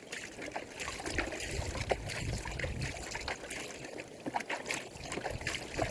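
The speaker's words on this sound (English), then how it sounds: "Wash all that sand off, and hopefully a bit of gold in there." Water rinsing sand away in a gold pan, a steady close trickling and sloshing wash that runs without a break for the whole stretch, with no talk over it.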